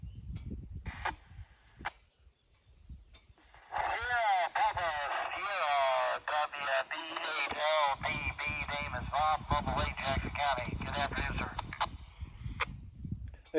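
Amateur radio check sent through a repeater from a four-wheeler near a wildlife area: a crackly, warbling transmitted voice broken by clicks and static bursts over a steady high carrier tone.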